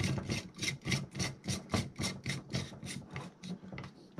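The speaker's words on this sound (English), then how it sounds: "And the microphone screws in like this." Handling noise as a condenser microphone is screwed onto its mount: a run of about a dozen regular rubbing, rasping scrapes in steady rhythm, close and moderately loud, with no voices.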